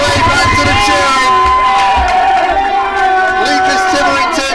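Crowd cheering and shouting at a National League rugby match after a try by Caldy against Rosslyn Park, a steady loud roar of spectators with whoops throughout, dense and continuous.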